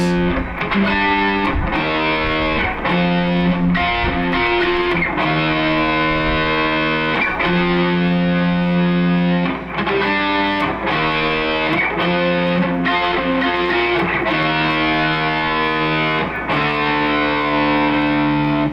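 A loud, heavily distorted electric guitar plays the chugging chorus riff of a song, chords repeating in a steady driving rhythm with brief breaks between phrases, no voices.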